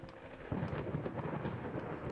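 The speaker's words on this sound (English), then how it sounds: "Just got scared by the lightning" Deep rumbling thunder from a storm in the horror game Layers of Fear, with a swelling crack about halfway through that sustains loud, low and broad over steady rain-like noise.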